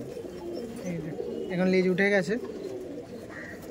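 Giribaj pigeons coo at a busy pigeon market in a few short, close, throaty calls, under and between the voices of people talking nearby.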